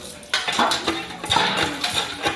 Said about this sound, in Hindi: इसी प्रकार से काले बर्तनों को मैं साफ़ करती हूँ